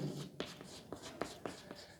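Chalk or marker on a board during a physics lesson on electric dipoles, with a handful of sharp strokes and taps in uneven rhythm, close by and fairly quiet.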